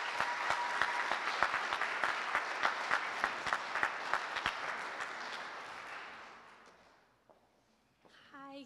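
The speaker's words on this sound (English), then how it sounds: "let's give a round of applause for Beth and Lena" An audience at a talk event applauds loudly with sustained clapping that fades out over several seconds, followed by near silence and a brief sound at the end.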